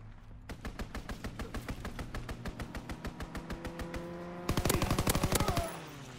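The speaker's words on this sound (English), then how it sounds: "Enemy strafing run, inbound!" Rapid bursts of machine-gun fire from an enemy aircraft's strafing run in a WWII shooter game, a steady rhythmic stream of shots that turns louder and denser near the end, with no talk over it.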